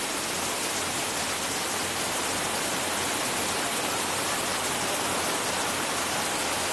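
A waterfall at Utopia park in Israel pours down from above onto people, making a loud, steady broadband roar of crashing water that holds evenly throughout with no voices.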